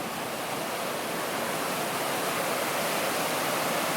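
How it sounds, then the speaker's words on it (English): Constant, dense rushing of a waterfall dropping roughly 50 feet into a pool, a broad steady roar of falling water that stays even and fills the whole clip without voices. "There's a waterfall here."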